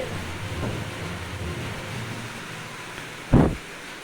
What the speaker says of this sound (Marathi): बघा आमच्या भागामध्ये सुद्धा प्रचंड पाऊस सुरू आहे, तुम्ही फक्त आवाज ऐकायचा आहे।